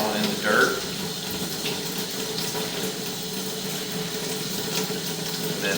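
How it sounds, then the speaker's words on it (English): Water running from a tap and pouring into a yard drain that is failing and causing a sinkhole: a steady, continuous rushing hiss, fairly close and constant throughout. "we're going to run the water for a second"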